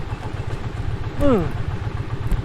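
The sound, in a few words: motorcycle engine idling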